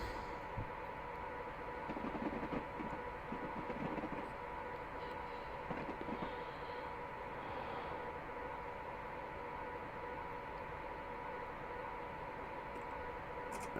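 A Class 89 electric train runs in Train Simulator Classic between Carlisle and Glasgow Central, giving a steady cab drone with a constant hum and occasional faint clicks and rattles, no one speaking.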